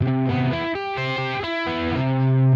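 Distorted electric guitar plays a picked riff of sustained notes with a slightly muddy, noisy edge between changes from the pick grazing the strings.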